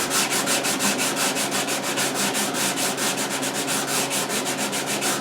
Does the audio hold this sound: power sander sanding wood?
yes